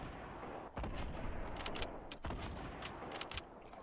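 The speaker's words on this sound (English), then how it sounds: "they're shooting down at someone else" Rapid bursts of gunfire in a Fortnite Battle Royale match crackle steadily at moderate distance, with several sharper volleys standing out over a continuous background din.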